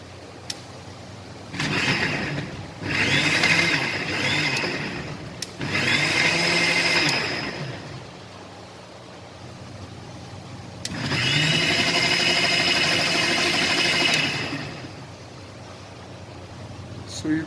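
A blender grinds a broad bean soup mixture into a thick paste, whirring loudly in three long bursts separated by quieter pauses, each run starting and stopping abruptly.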